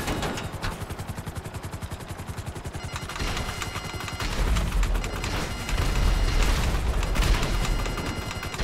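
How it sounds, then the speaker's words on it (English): Missiles launch and detonate during a GTA 5 Online heist, with a rapid stream of firing followed by a rolling series of loud, overlapping booms. "I have unlimited missiles."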